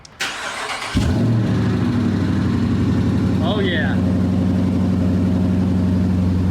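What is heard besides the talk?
2018 Dodge Charger police car engine starting and idling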